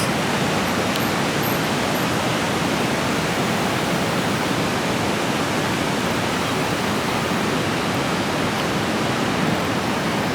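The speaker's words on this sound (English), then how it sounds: "the water is picking up speed as it heads directly towards the falls" A steady, dense roar of rushing river water heading over a waterfall in Canada, with mist rising, continuous and loud throughout with no pauses or voices.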